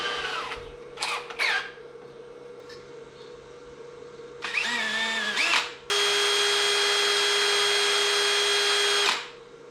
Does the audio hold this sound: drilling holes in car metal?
yes